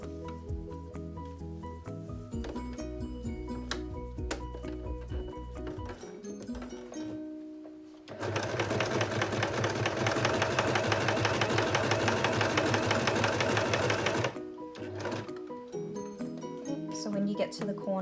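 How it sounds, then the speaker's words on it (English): A sewing machine stitches a breathable face mask made from an old Calvin Klein T-shirt, a loud steady whirring run in the middle, with quieter machine hums and a voice talking before and after. "we can sew it together at the bottom"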